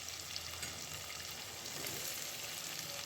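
Onion and tomato sizzle steadily as they sauté in a pan for a tamarind curry, a continuous close-up frying hiss with no voices.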